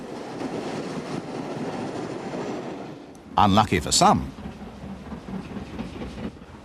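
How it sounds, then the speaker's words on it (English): Steam locomotive 8F 48151 hauls the Furness Flyer with a low rumbling train roar, and a loud burst of sharper sound cuts in briefly near the middle. A voice speaks over it. "This is the Furness Flyer, the train booked for the A4. 8F 48151 substituted."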